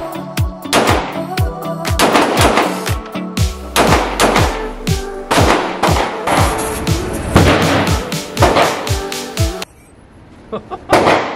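Gunfire at the Sharpshooters indoor gun range: loud, close, echoing shots cracking out one after another at uneven intervals, with a short quieter stretch near the end.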